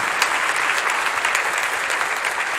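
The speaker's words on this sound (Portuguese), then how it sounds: "Uma salva de palmas para a Maiara" Steady, dense applause from an audience honouring a woman named Maiara after a group activity, holding even and close throughout with no talk over it.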